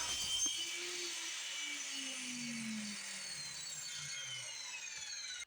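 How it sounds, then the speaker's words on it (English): A Machinool FM255 miter saw, set at 45 degrees, slicing through a board: a sustained motor whine with a falling pitch as the blade cuts, steady and fairly faint, ending abruptly. "Let's slide the miter over, lock it in at 45, and cut this god-awful ugly board."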